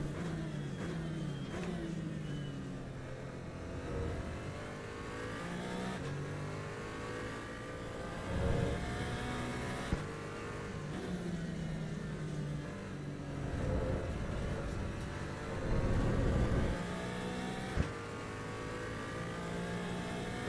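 A race car engine in the Assetto Corsa EVO racing game drones and revs steadily through gears, with rising and falling pitch sweeps and brief throttle lifts on corner exits, loud and continuous with no talking.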